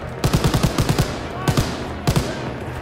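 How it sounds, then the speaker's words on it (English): Machine gun fire in Call of Duty: WWII: rapid bursts of close, loud shots, one long burst followed by two short ones, with a game soundscape behind and no talk. "I was just machine gunning a friend"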